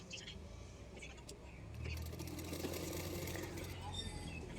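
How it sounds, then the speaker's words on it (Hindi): A sewing machine stitches along the edge of blouse lining fabric with a low, steady mechanical whir that starts partway through. It is fairly faint, and someone speaks softly over it. "उसी के किनारे किनारे पे एक सिलाई कर रही हूँ"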